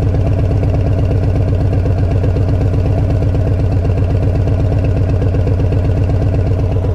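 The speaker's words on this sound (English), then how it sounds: "One more time. Let's blip the throttle." A Harley-Davidson Street Bob with a Stage 1 setup idles with a loud, steady, rapid pulsing throb up close, the throttle blipped so the RPM surges, with no talking.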